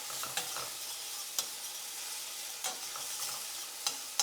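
Food stirred in a frying pan on an unfamiliar stove burner, a steady soft sizzle with a few sharp scraping clicks from the utensil scattered through, close and moderately quiet, with no talking.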